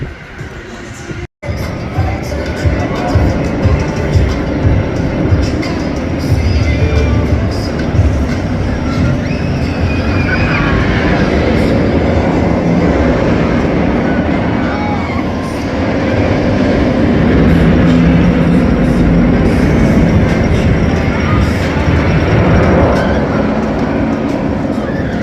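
Great Bear roller coaster running at Hersheypark, a loud steady rumble and rattle of wheels on track with wind roar, sustained and close, with voices mixed in.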